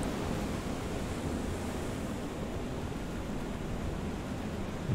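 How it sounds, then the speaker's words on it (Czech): Stormy, heavily churning sea waves in the video game FAR: Changing Tides, a steady dense roar of surf and wind that stays loud and continuous with no talking. "No, to je pořádně rozbouřené moře."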